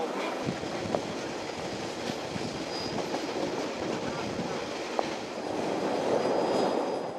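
A train rumbles steadily through a railway yard, with wheels clacking and occasional squeals over a constant rolling roar.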